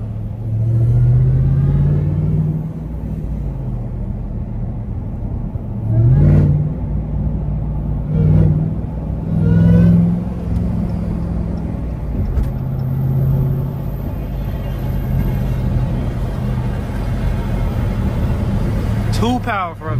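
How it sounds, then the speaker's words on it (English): A Dodge Challenger Hellcat Redeye's engine rumbles steadily at close range, with several brief surges as it accelerates and revs, under occasional voices. "This car is too powerful."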